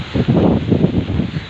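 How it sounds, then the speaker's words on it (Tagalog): Strong typhoon wind roars and buffets the microphone in gusty bursts, loud and close, with no voices. "Maaga na, pero ang lakas pa rin ng hangin"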